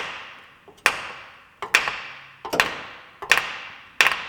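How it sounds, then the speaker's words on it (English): A brass hammer taps the top of a fill plug on a 131K-mile Lexus GX460 five times at a steady, unhurried pace, each strike sharp and ringing, close up with quiet between hits. "I'll hammer the top of it to shock it."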